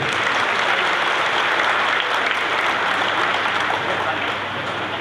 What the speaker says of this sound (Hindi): तालियां एक बार जोरदार तो बनती ही है।